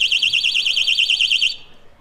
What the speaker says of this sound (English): So it starts off with a few warning beeps, and then the alarm goes off.